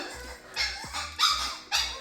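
A puppy gives a few short, sharp yips and barks in quick succession inside a freshly renovated house, fairly close and moderately loud.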